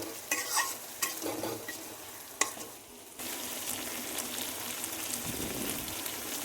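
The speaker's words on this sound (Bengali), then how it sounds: "মশলা একসঙ্গে মিশিয়ে নিচ্ছি" Ginger, garlic and dry chili paste being stirred with chopped onion in a pan, scraping and clinking strokes over a hissing sizzle that briefly drops away and then returns louder and steady.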